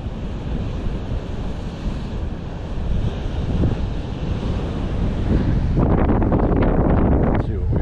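Surf rolls in continuously under strong gusting wind buffeting the microphone, a loud, unbroken outdoor roar with no voices.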